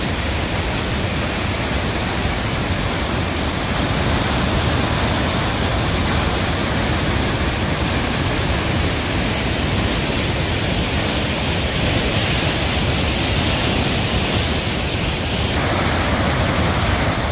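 Floodwater after heavy rains pours over the surplus weir of Bethupalli lake in Eluru district, a dense, continuous roar of cascading water that stays loud and even throughout.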